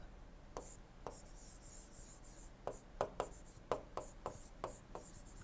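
Pen or chalk writes out the Kelvin-Planck statement of the second law of thermodynamics during a lecture: a run of sharp, faint taps and scratches, sparse at first and then quicker, with no talking.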